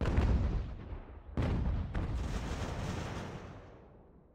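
Massed musket and cannon volleys in the strategy game Ultimate General: American Revolution, a deep rolling barrage with two sharp cracks cutting through, loud and continuous before fading, with no voices.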